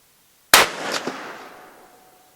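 A single sharp handgun shot fired from a Trifecta handgun rest cracks loudly and close, then rings out in a decaying echo for nearly two seconds.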